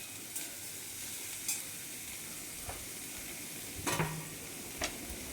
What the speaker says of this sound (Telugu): వేసుకుని బాగా పైకి కిందకి కలుపుకోవాలి